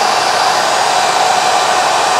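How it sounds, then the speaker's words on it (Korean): A hair dryer runs on its top setting, powered through a pure sine wave power inverter, giving a loud, steady broadband whoosh that holds constant throughout with no voices. "드라이기 1단만 더 올려봐도 돼요?"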